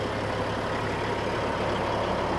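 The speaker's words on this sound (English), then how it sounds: "this is a 97 Peterbilt with a 3406E engine, 550 horsepower" A 1997 Peterbilt truck with a 550-horsepower Caterpillar 3406E engine idling, a steady, loud, close diesel rumble with a low droning hum that stays even and unbroken.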